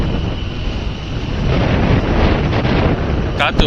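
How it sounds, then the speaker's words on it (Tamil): A strong headwind buffets the microphone during a motorbike ride on the road toward Courtallam near Tenkasi, giving a loud, continuous rumbling roar with gusty swells, and a brief voice near the end. "காற்று பயங்கரமாக அடிக்க, எதிர்காற்று"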